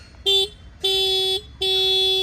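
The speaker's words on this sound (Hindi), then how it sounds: "हॉर्न एक बार आप यहाँ पे सुनना" Three electronic horn beeps from a 2024 TVS Raider 125cc Super Squad Edition motorcycle, a short one followed by two longer blasts, loud and close, with a steady tone and brief gaps between them.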